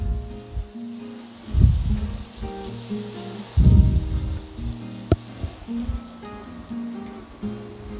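Chicken korma masala with red chili powder sizzles in a pan while being stirred, a steady close hiss broken by a few louder bursts of frying and one sharp clink.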